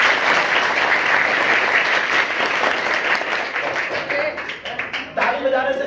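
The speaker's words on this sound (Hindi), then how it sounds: "एक बार आप लोग ताली जोड़ के हो जाए।" Audience members clap together at a lecture or talk, the loud, dense applause fading and breaking into scattered claps near the end.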